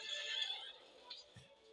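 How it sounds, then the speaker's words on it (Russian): Horse neighing in a video game, a single whinny with rising and falling pitch, moderately loud and followed by a short low thump, no talk over it. "У них лошадка! Давай, лошадка! Лошадка вышла!"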